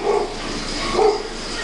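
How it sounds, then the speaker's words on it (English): A dog indoors gives two short barks about a second apart, close and fairly loud, with no talking over them. "Don't mind my dog, people."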